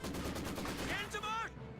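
Mortar and gunfire from a 120mm mortar in the Company of Heroes 2 strategy game, a loud dense burst of battle noise that fades out toward the end, with a voice faintly underneath.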